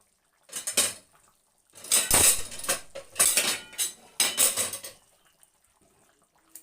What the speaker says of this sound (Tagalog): ilalagay natin yung patatas at saka yung carrots